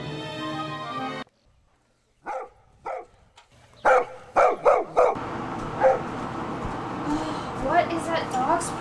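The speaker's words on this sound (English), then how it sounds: "What is that dog's problem?" A dog barks in a quick series of sharp, close yips and woofs, then keeps up scattered barking under voices at night outdoors.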